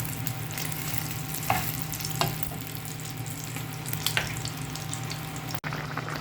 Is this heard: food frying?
yes